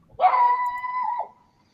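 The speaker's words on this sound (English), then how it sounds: "It's my dog." A single drawn-out yelp from a nearby dog, loud and clear, lasting about a second before cutting off into quiet.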